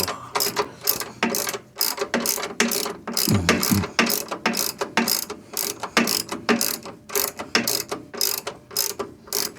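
A socket ratchet works brake bolts on a 1986 Chevrolet C10 pickup, giving rapid, close, loud clicking in uneven back-and-forth bursts with short pauses and no talking.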